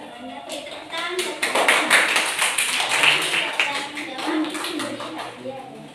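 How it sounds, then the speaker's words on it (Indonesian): Students in a classroom clap together after a presentation, a short burst of hand claps that swells, holds for a few seconds and tapers off, with some faint voices mixed in. "Tepuk tangan."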